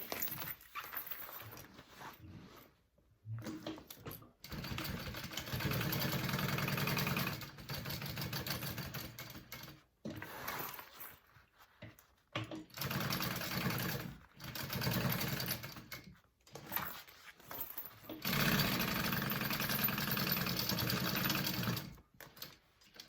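A sewing machine bastes fabric for a bag, running in repeated short bursts of rapid stitching separated by brief pauses, close and fairly quiet.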